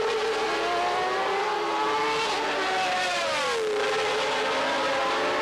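1992 Formula 1 cars racing, Patrese's Williams chasing Berger's McLaren, a continuous loud high engine scream with pitch sweeping up and down as the cars pass.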